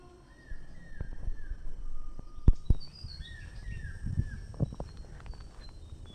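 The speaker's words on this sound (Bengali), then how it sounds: "মাছরাঙা পাখির ডাক" A kingfisher calls from the bank of a large pond, giving a series of loud, harsh, drawn-out whistling notes in several bursts, while sharp knocks and scattered clatters sound close by.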